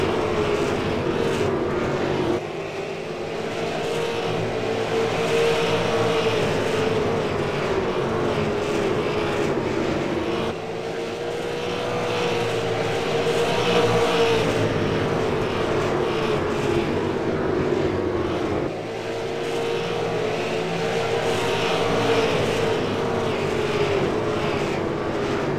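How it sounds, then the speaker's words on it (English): Race cars running nose-to-tail laps on a racetrack, a continuous loud engine drone rising and falling in waves as the field passes, with the roar swelling and fading roughly every eight seconds. "Look like now we have a car on the outside trying to make a pass."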